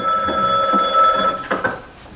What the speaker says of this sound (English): the telephone rang